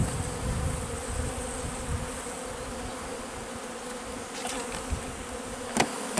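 Steady buzzing of many honeybees around a hive in spring, a dense continuous drone with wind noise and a few soft knocks.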